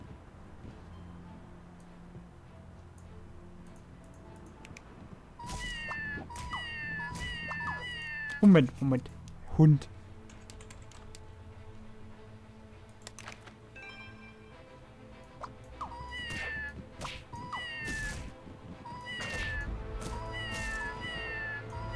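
Cartoonish cat meows in the video game Scribblenauts Unmasked, several short rising calls in clusters over a low game-music bed, with a few louder bursts and someone talking between them.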